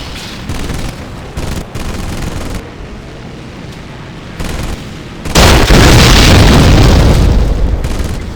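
Torpedo explosions in Medal of Honor Pacific Assault, set during the Pearl Harbor attack on Battleship Row: muffled booms and bursts of gunfire early on, then a loud, sustained blast rumbling on to the end.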